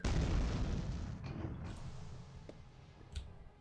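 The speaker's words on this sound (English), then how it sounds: "Explosions happening around, I'm a little nervous about that." Deep explosions boom in the Quake 2 remake, a heavy rumbling blast at the start that fades away, then a few fainter distant bangs and thuds follow.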